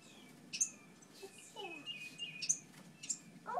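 Baby birds chirp in short, high tweets scattered across a few seconds as they leave a nest in a pot, faint and fairly close, with a few brief squeaky calls and no talking.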